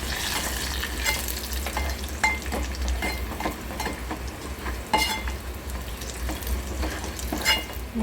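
Egg curry with grated coconut cooking in hot oil in a pan, a steady crackling sizzle broken by sharp spatters and stirring scrapes, close and fairly quiet.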